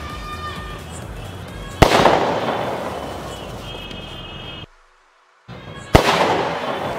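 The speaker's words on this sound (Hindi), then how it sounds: "तो अब चलाते हैं अपने स्काई शॉट के सेल वाले रॉकेट को," A Diwali sky shot rocket firecracker launches and bursts with two sharp, loud bangs several seconds apart, each followed by a crackling, fizzing tail, with a brief silent gap between them.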